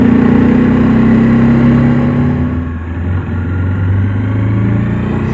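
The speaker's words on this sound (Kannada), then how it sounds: "ಗಾಡಿನ ಫುಲ್ ಎಳೆಯೋಣ ಈಗ." A Bajaj Dominar 400 motorcycle, a 2024 update model, with its engine droning loud and close at a steady pitch that dips briefly and then settles again, with no talking.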